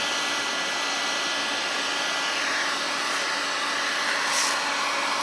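Parkside heat gun weed killer from Lidl blowing steadily outdoors, a constant loud fan-and-air roar with no change over several seconds.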